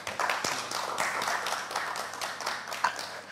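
Audience applause at a talk with Esther Longe: a steady patter of many hands clapping, moderately loud and continuous for a few seconds, with a couple of sharper claps standing out.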